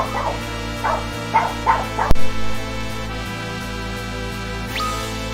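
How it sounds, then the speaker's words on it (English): Small, excitable dog yipping in a few quick bursts, then one sharp bark that rings out loud and close over a steady hum of background music. "Very excitable little dog today."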